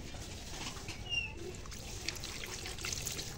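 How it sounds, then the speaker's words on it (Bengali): Water being poured into marinated chicken in a pan, a soft trickling splash with faint dribbles over quiet kitchen background, no voices. "এখন এখানে আমি পানি দিয়ে দিচ্ছি।"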